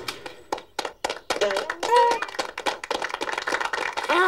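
Animated cartoon characters clap in a ragged, uneven rhythm, sharp separate claps at first and then quicker, busier slaps mixed with voices and squeaky exclamations close by.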